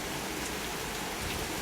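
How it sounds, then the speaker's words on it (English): Rain falls steadily during a storm, a constant hissing patter at moderate distance, even in level throughout and with no voices or thunder. "But hopefully it rains heavy enough that we get around 1/2 or more."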